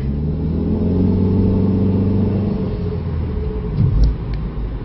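A 2003 PT Cruiser Dream Cruiser Series 2 accelerates on a test drive, its engine heard from inside as a close, steady rumble that swells and then eases slightly, with no talk.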